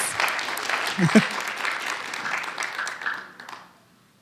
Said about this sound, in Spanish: Clap when I speak about Jesus.